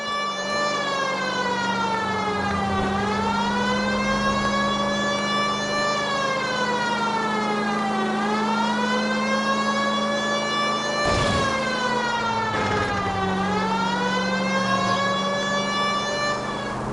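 A police car siren in the L.A. Noire video game wails loudly and continuously, rising and falling in long sweeping cycles with a steady engine drone beneath.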